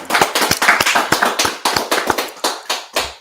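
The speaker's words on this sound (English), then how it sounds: "Clap it up." Sharp, rhythmic hand claps from a small group, roughly a dozen crisp slaps in a steady beat, close and loud with no talking over them.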